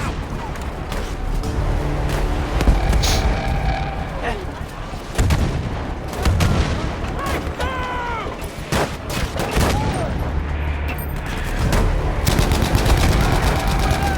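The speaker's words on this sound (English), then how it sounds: "Cannot tell what gun this is. What is it? Am I American? I think this is the M1911." Pistol gunfire in Battlefield 5, with M1911 shots mixed into a dense World War II battle of rapid gunfire, distant booms and rumbling explosions that continue throughout.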